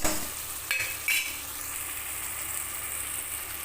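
Onions and spices sauté in a pan with salt for soya and green pea rice, giving off a steady close sizzle, with a few sharp stirring scrapes early on before the frying settles into an even hiss.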